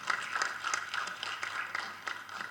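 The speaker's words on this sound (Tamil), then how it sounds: "ஒரு தடவை நம்ம எல்லோரும் கைத்தட்டிடுவோம்" An audience at a Tamil film audio launch for Kuttram Pudhithu claps, a sparse, fairly faint patter of hands in an uneven rhythm, heard from a distance in a large hall.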